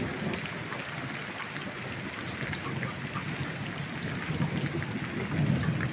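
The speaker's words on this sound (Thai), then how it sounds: "ท่านจะได้ยินเสียงฝนตัดเยน นะครับเสียงฟ้าร้อง กระหึ่ม" Steady heavy rain pours down with low, rolling thunder rumbling underneath, growing slightly louder toward the end.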